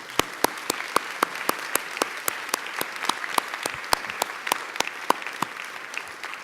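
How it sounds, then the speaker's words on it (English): Audience applause at an art competition reception, a dense continuous patter of many clapping hands with sharper individual claps standing out, steady and fairly loud, no speech. "you all deserve another round of applause."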